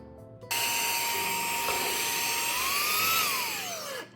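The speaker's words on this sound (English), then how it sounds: "I'll just quickly clean it using the vacuum." A Xiaomi handheld vacuum cleans leftover coffee from the burrs of a Starseeker AK74 coffee grinder. It switches on abruptly into a steady, close whine, and the pitch rises and then falls as it is moved around near the end.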